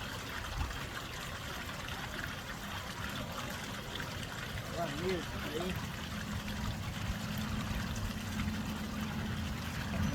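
Water pours and trickles steadily into a gold sluice box, a constant rushing wash, with someone talking briefly over it.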